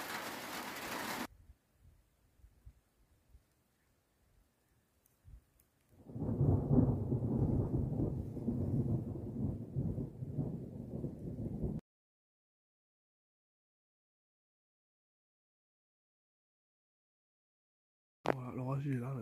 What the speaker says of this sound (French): L'orage il est là maintenant.